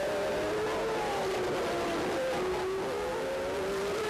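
A 1990 Formula 1 race car engine screams in a sustained, high, tonal whine whose pitch shifts up and down as the cars race and overtake, loud and steady throughout.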